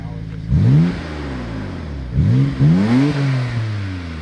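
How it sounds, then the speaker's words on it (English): Nissan R32 Skyline GT-R engine, warmed up and fitted with a new exhaust, blipped in about three sharp revs that climb and drop back to a rumbling idle, close by. "You give it a couple of revs"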